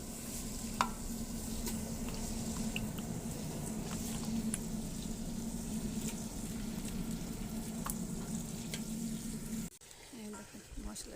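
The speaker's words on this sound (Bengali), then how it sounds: "মশলা বসাচ্ছি, মাংসগুলো দিয়ে দিব।" Beef pieces frying with spices in a pan at home, a steady close sizzle with occasional stirring clicks that carries for about ten seconds, then drops off sharply near the end as the pan quiets.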